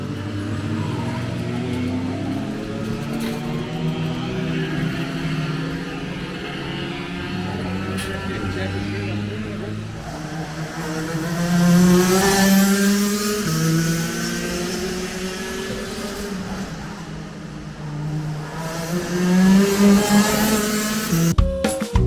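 A racing kart engine drones and revs on track, its pitch rising and falling as it swoops through corners, with sustained buzzing passes in the middle and near the end, loud and close.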